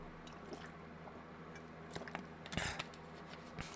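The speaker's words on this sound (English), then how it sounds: "Sorry, had to sip water" Someone takes a sip of water close to the mic: soft wet slurps and small mouth clicks, quiet, with a brief louder swallow near the middle and no talking.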